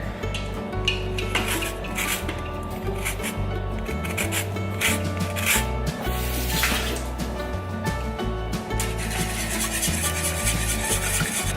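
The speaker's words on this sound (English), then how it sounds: "And then we're gonna add the zest of 1 lemon." A lemon being zested against a grater for a high-protein lemon bar batter, giving steady close rasping and rubbing strokes that run continuously over soft background music.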